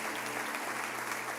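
A church congregation applauding, a continuous wash of clapping that holds at an even level through the brief moment.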